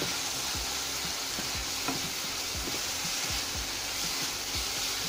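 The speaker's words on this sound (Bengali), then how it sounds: "মশলা ভালো করে কষিয়ে নেব। আমার কষানো প্রায় শেষ।" Spice masala being stir-fried in a pan for an okra and fish curry: a dense, even sizzle with repeated scraping strokes of a spatula close by, and no voices.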